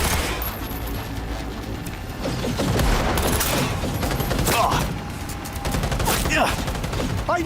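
Heavy gunfire in Cyberpunk 2077, with rapid bursts and repeated sharp shots crackling through a loud combat scene, a few louder cracks near the end and faint shouts at times.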